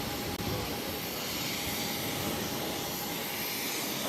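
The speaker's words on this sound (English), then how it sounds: "We have the Japan Airlines Streamliner taxiing over to 22 left for takeoff to Tokyo Narita, Flight 7." A Japan Airlines jet taxiing toward runway 22 left at Boston airport, a continuous broad jet engine roar with a faint steady whine, heard at a distance and without talk.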